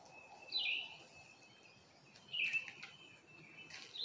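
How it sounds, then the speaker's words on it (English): Several bright bird chirps in short bursts on a June morning in Alabama, spaced a couple of seconds apart, over a quiet outdoor hush. "You hear all the birds?"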